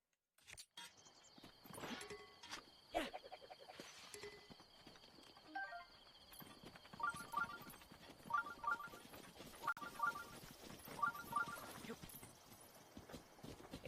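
Horse hooves in the game Breath of the Wild clop in repeated rhythmic bursts at moderate loudness amid game music and effects, with no talk.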